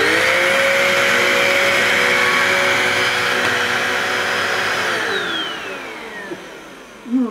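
A Vorwerk Tiger vacuum cleaner on its highest setting runs over carpet with a loud, steady high-pitched whine, then winds down in pitch and fades, ending with a short thump.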